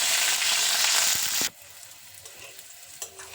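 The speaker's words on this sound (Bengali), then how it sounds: "এবার উচ্ছেগুলোকে ভালো করে ভেজে নেব" Sliced bitter gourd, salted beforehand, frying in hot oil while cooking Bengali sukto: a loud, dense sizzle that cuts off abruptly partway, leaving only faint kitchen noise and a small clink.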